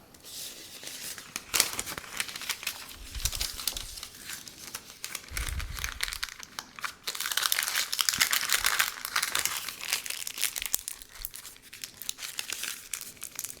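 Homemade caramel candies being wrapped in wax paper: steady, close crinkling and crumpling with a few sharp tearing rips, continuous throughout with no talking.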